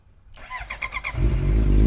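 A 2017 Honda CB650F motorcycle with an aftermarket exhaust cranks and fires after a short pause, then settles into a loud, steady idle with a low rumbling tone.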